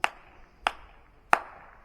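Three sharp hand claps, evenly spaced, each ringing out with a short echo in the stone halls of Jodhabai's palace at Fatehpur Sikri.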